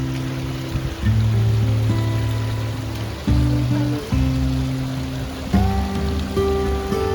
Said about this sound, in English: Look at the creek. So much water.